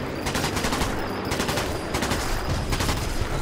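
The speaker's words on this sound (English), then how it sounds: "These machine guns are not accurate." Sustained machine gun fire in the video game Sniper Elite 4: rapid, continuous bursts of shots at moderate loudness, steady throughout with no talk.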